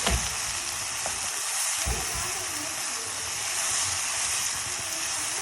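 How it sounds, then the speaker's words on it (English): Onions sizzle loudly in a pan with garlic powder, giving a steady, bright frying hiss close up, broken by a few low clunks of a utensil against the pan. "once the onions are slightly fried and are brown, I'm adding a spoon of garlic powder"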